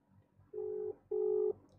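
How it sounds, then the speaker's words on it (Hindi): A phone dialing the police emergency number 100 during a live-streamed prank call gives two steady, clear dialing tones, each about half a second long, separated by a short gap over a quiet background. "ये मिला दिया मैंने 100 नंबर पे फोन"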